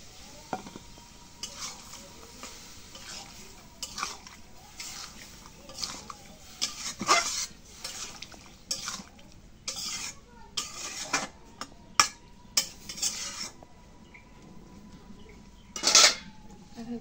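Potatoes and soy chunks stir-fried in a pan, a low sizzle under repeated clattering scrapes and knocks of a metal spoon against the pan, irregular and close.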